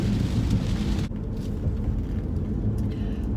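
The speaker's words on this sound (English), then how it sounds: "I don't know if y'all can even hear me with all this rain." Heavy rain pours down in a dense, steady roar, with an abrupt shift partway through as the sound becomes more muffled, continuing loud and unbroken with no talking.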